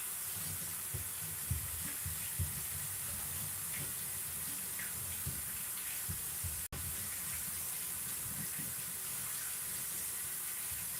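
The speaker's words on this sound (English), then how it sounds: "I'll be right back as soon as I wash my hands." Tap water runs steadily into a sink while hands are washed, a continuous hiss of flow broken by small splashes, with a sharp knock near the end; no talk.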